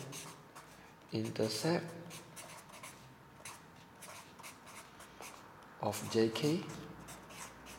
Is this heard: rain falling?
no